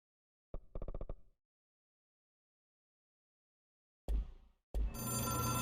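Telephone ringing in the video game Control: a brief burst of rapid bell-like rings, then silence, followed by louder game sounds starting abruptly near the end.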